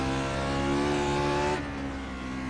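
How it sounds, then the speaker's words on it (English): A naturally aspirated V8 in a Lotus 49 racing car in a sim racing game roars steadily at high revs, then drops in pitch as the driver lifts off, close and loud with no talk. "naturally aspirated engine, of course, so there's no surge from any turbos that you get on"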